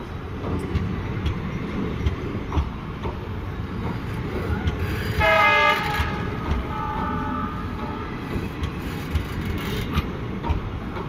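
Horn of an EMD diesel locomotive, number 40288, hauling the Ramnagar–Lucknow Express near Izzatnagar: a short sustained harmonic blast rising over steady rumbling rail and wheel noise, fairly near.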